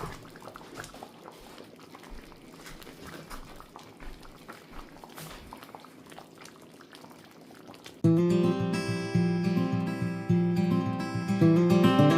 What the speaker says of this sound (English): Just got my heat turned down on this eye to about medium just to keep a low simmer.